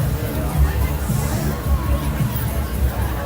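A crowd gathers outdoors at a Veterans Day parade, producing a steady murmur of many voices. The babble stays loud and continuous throughout, with no single speaker standing out.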